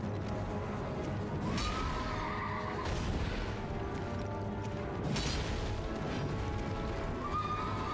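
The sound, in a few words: horse summoned in video game Elden Ring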